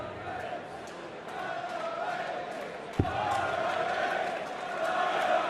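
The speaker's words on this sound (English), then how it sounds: "Well, the crowd are trying to G him up. Shout the Barney Army." Darts crowd at a Champions League of Darts semi final keeps up a steady wash of cheering and chanting throughout, with one sharp thump midway, under a commentator's voice.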